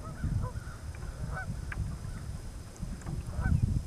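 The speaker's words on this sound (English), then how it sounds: "That goose is really loud." A goose honks repeatedly in short, loud calls that carry from a moderate distance outdoors over a rumbling background.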